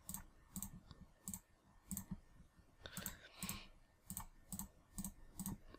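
Mouse clicks sound while result outputs are hidden in simulation software: roughly a dozen sharp, quiet clicks spaced in an uneven rhythm, close up and with no talking.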